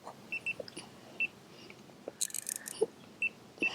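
An electronic bite alarm beeps by a carp fishing lake, short faint high-pitched bleeps spaced irregularly, with a few quiet clicks and rustles between them.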